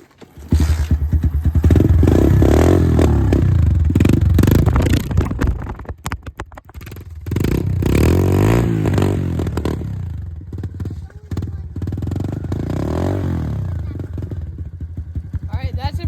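A dirt bike engine revs loudly and close up in repeated bursts, rising and falling with a brief dip in the middle before roaring up again.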